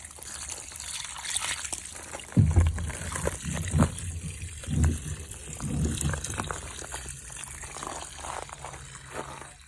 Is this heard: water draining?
yes